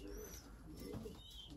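Racing pigeons coo softly in a loft, low throaty murmurs with faint chirps in the background, quiet and close.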